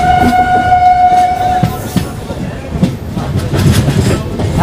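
A passenger train heading toward Digha rumbles along with rhythmic wheel clatter, preceded by a long steady horn tone, loud and close from onboard.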